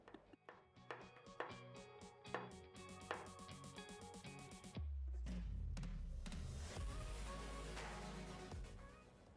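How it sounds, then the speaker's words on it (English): A knife chops bananas into small pieces in quick, rhythmic taps on a board, faint and close. Loud music then takes over. "Now let's chop them into small pieces."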